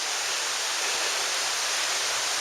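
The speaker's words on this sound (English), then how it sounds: "There's a beautiful creek runs right beside it." Steady rushing water fills the clip, a continuous broadband wash of a creek running close by at Kephart Shelter on the Kephart Prong Trail, Great Smoky Mountains, with no voices or other sounds.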